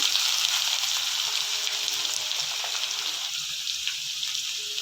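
Chopped onions fry in hot oil in a kadai with tempering spices, a continuous close hiss and crackle that stays even throughout, with no talking.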